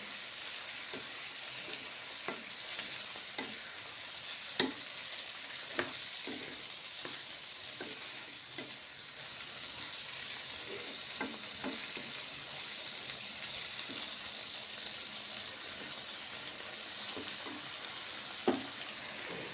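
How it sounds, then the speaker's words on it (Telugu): Cucumber curry with salted fish and tomato simmers in a covered pan on low heat, giving a steady soft bubbling hiss broken by scattered small pops and clicks throughout, with no voices. "పావు కిలో దోసకాయలు ఇవి మంచిగా కలుపుకొని క్యాప్ పెట్టేసి సిమ్లో ఉడకనిద్దామండి"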